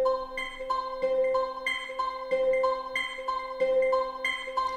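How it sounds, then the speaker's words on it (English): A very simple guitar part from a free sample plugin, steady repeating plucked notes in an even rhythm, played alone and clearly. "I've used this kind of guitar sound which they've got here"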